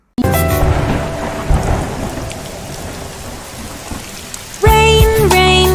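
Steady rain pours with deep rolling thunder, followed near the end by a burst of music.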